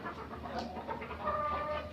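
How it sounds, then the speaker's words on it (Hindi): Desi hens kept together in a farm room, roughly a hundred birds, giving soft overlapping clucks and murmurs at low-to-moderate level amid steady indoor room ambience. "ये तकरीबन आपके सामने एक कमरे में ये देसी मुर्गियां रखी हुई हैं"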